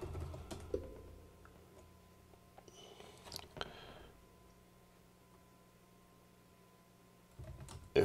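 Quiet typing on a computer keyboard while logging in to a Raspberry Pi over a serial console, a short run of soft close key clicks with a near silent pause before a final tap.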